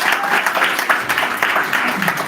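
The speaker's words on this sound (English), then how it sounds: "Guys, can we give a big round of applause again?" An audience at the inauguration of a new team in Ireland's Congolese community gives a round of applause, a dense, steady burst of close clapping from a roomful of people.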